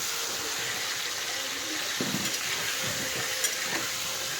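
Food sizzles steadily in a hot pan, a continuous close hiss with occasional clinks and stirring knocks over it, no talking.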